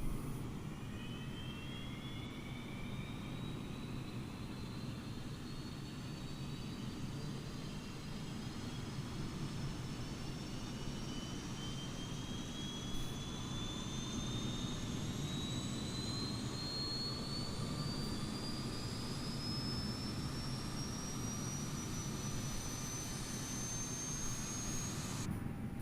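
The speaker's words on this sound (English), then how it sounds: "Let's go ahead and get home and turn on our APU" Airbus A319 auxiliary power unit spooling up in Microsoft Flight Simulator, a steady low turbine roar beneath slowly rising whines that climb in pitch throughout the long, continuous start.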